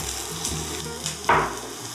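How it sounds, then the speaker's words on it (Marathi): Finely chopped onion sizzles in a spoonful of hot oil on a flat pan, a steady moderate fry with a brief louder burst near the end, no talking. "इथे चमचाभर तेल गरम केलेलं आहे तव्यामध्ये. यामध्ये घालूयात कांदा बारीक चिरलेला"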